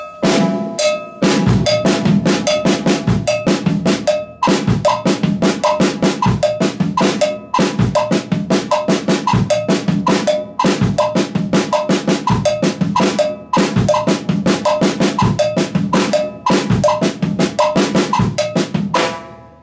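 A drummer plays a songo rhythm in reverse on a kit with a prominent cowbell, its bright metallic clanks ringing out in a fast, steady, syncopated pattern alongside snare and bass-drum hits, loud and close with no talking.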